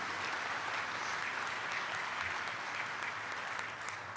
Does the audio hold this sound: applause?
yes